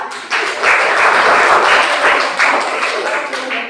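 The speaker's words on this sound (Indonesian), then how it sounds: "kita aplaus untuk kelompok 2" A classroom audience gives a dense burst of applause for a student group after their presentation, with loud continuous clapping throughout.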